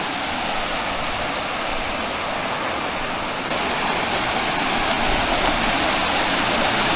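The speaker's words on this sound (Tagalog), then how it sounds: "Ang sarap po pakinggan ng lagaslas ng agos ng tubig." Stream water rushes and splashes steadily outdoors, a dense, loud hiss that swells slightly partway through, with no voices.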